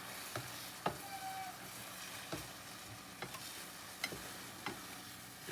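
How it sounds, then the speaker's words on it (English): Scrambled eggs fry in a pan with a faint, steady sizzle, broken by several sharp clicks and taps of a utensil stirring and chopping them, heard up close with no talk. "as you can see, it's sizzling"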